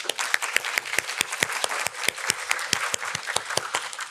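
Audience applause at a Catholic symposium on family and youth: a room of people claps steadily and fairly close, individual sharp claps standing out through the whole stretch with no talk over it.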